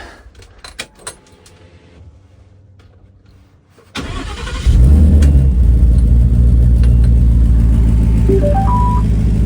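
Keys jingle and rattle, then a starter cranks and the Coyote V8 of a 1976 Ford Bronco catches and settles into a loud, steady, rumbling idle nearby.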